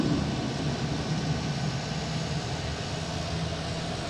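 A WestJet airliner bound for Calgary at Boston Logan International Airport gives a steady, loud jet engine roar with a low rumble, constant and unbroken across the moment.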